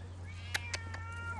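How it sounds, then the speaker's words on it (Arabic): A cat meows several times in short, clear calls over a steady low hum indoors near a kitchen, with no talking. "مياو"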